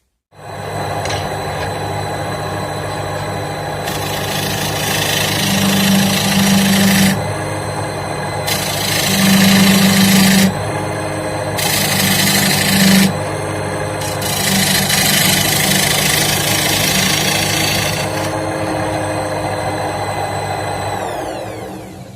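Oak turns on a wood lathe under a narrow-necked cutter as it is brushed and artificially aged. A loud, steady motor hum carries throughout, broken by repeated bursts of harsh rasping cutting noise, each lasting a few seconds.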